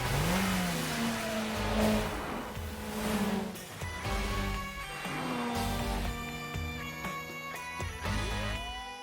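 A supercharged car engine revs hard and accelerates in an Initial D Fourth Stage mountain road race, with rising and falling engine pitch through several gear changes, loud and close, and a second car's engine overlapping, with no talk.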